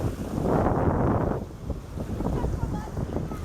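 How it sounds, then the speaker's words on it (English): Steady wind gusting in off Lake Michigan with waves washing on the lake, a heavy broadband rush that swells in the first second and a half, then settles to a choppier, buffeting roar against the microphone. "waves are getting a little bit stronger here on the lake because it's starting to blow some wind in from the lake"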